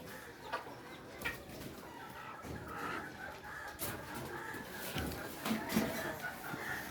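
Chickens cluck and murmur close by in a busy coop on a farm that also keeps cattle, with scattered calls over constant rustling background noise and some faint voices.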